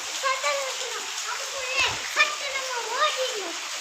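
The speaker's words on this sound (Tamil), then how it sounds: "நல்ல மழை பெய்யுது." Heavy rain pours steadily with a dense, even hiss, while voices, including a child's, talk over it.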